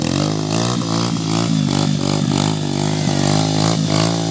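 A mini trail motorcycle revs hard while stuck in mud, a loud, close engine with repeated throttle surges and a buzzy, pulsing note throughout.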